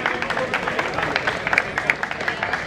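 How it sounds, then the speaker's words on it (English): A crowd at a sports tournament prize ceremony claps for the referees, a dense patter of many hands with sharper individual claps standing out, steady and moderately loud. "As a big round of applause for the referees."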